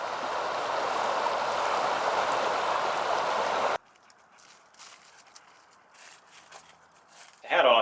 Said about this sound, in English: Look how fast this river's flowing.